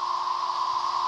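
Male periodical cicadas calling for a mate, a steady dense buzzing drone that holds without a break at fairly high loudness.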